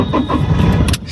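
A car engine cranks and catches on a drive out of Salt Lake toward Kolkata airport, a short loud burst of starter whir into running engine, close and alone with no talk.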